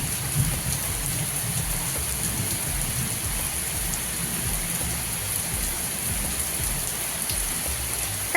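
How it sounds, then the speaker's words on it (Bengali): Heavy rain pours down in a thunderstorm, a dense, steady hiss of drops drumming on surfaces close by, loud and unbroken, with no voices. "এখানে ভালো বোঝা যাচ্ছে কত বৃষ্টি হচ্ছে"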